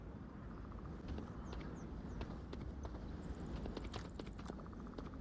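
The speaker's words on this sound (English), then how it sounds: "Nomad should hear these footsteps inside" Footsteps in the Onward VR video game, heard as faint, quick, irregular taps under a steady low background rumble, growing slightly busier toward the end.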